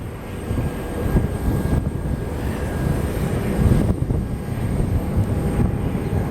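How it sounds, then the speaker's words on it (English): An Airbus A320 in retro United Friendship livery taking off on a windy day, heard from the ground as a steady broadband jet roar with gusty wind noise, loud and continuous with no talking. "I hear the retro Airbus, so we should see it here in a second."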